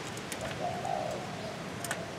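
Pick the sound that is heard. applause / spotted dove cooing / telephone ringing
spotted dove cooing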